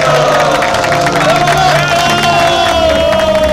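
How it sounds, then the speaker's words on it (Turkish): A rally crowd cheers and claps together, a loud continuous roar of voices and applause with a sustained shout rising over it, close and dense throughout. "Alkış, alkış."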